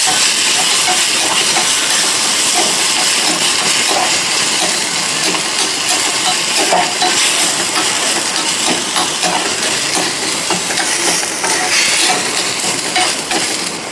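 Foxtail millet rice fries in ghee in a pan, giving a loud, steady sizzling hiss with small crackles that runs unbroken throughout, with no voices.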